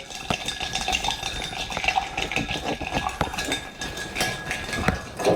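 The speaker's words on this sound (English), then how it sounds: "Give that a quick stir" Ice clinks and rattles steadily against a mixing glass as a Vieux Carre cocktail is stirred with a spoon, a close, busy run of small metallic and glassy chinks with no talking.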